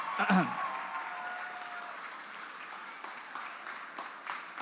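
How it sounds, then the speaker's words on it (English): Audience applause for Kiran Bedi at a Model UN championship conference, steady crowd clapping with a brief voice at the start, continuing evenly throughout. "huge round of applause for Kiran Bedi"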